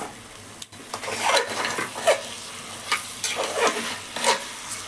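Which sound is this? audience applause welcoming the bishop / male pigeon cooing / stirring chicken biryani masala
stirring chicken biryani masala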